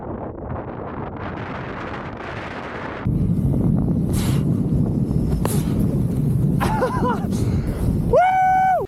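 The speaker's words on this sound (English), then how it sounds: "the wind has been ripping here lately" Strong wind buffeting the microphone on a mountain summit in Japan, a loud continuous roar that grows stronger partway through, with a few faint tones near the end.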